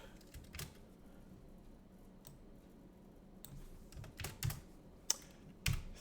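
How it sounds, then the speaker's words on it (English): Typing on a computer keyboard: a sparse, irregular run of soft key clicks building to a few sharper taps near the end, close by but quiet, with no talking. "If I could type."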